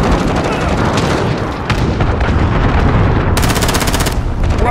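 Automatic fire from a CR-56 AMAX assault rifle in a first-person shooter video game, loud and dense bursts running through the whole stretch amid other battlefield booms, with a rapid stuttering volley near the end.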